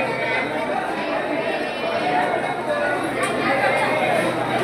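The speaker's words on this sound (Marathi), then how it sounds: "हे बघा थोडी गर्दी आहे." Dense chatter from a crowded train station, many overlapping voices close and far under constant rail and platform background noise.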